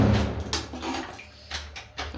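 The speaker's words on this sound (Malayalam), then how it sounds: "ആവശ്യത്തിനുള്ള വെള്ളം ഒഴിച്ചു കൊടുക്കണം" Water poured into a pot of simmering beef curry, a splashing broadband rush in short uneven bursts, close and moderately loud with no talk.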